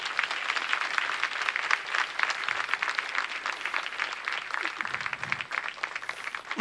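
A church congregation bursts into sustained applause, a dense wash of many hands clapping at a steady level for several seconds, with faint voices mixed underneath.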